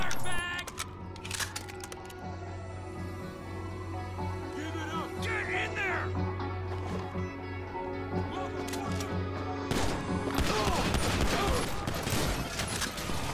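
Gunfire in the video game GTA V, scattered sharp shots over a steady engine-like drone, with voices shouting in between and a denser burst of rapid fire near the end.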